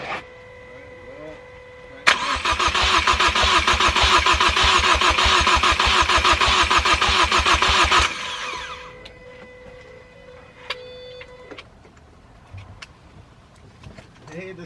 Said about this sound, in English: the starter works with the different solenoid